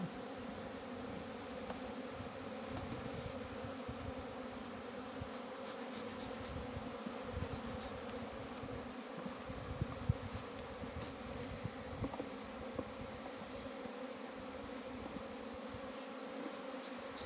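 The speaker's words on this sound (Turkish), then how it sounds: "Evet arılar Olsun işçi arılar onlar." A steady, dense buzzing of many honey bees, continuous and close, with individual wings droning in and out against the hum of the swarm.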